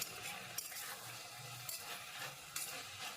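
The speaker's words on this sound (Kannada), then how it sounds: "ಕ್ಯಾಪ್ಸಿಕಮ್ನ ಸ್ವಲ್ಪ ಮೆದುವಾಗಬೇಕು, ಅಲ್ಲಿವರೆಗೂ 1 ರಿಂದ 2 ನಿಮಿಷ ಫ್ರೈ ಮಾಡ್ಕೊಳ್ಳೋಣ." Capsicum cubes frying in a hot tempering for vangibath, a soft steady sizzle with occasional stirring scrapes and clinks in the pan, close and fairly quiet, no voices.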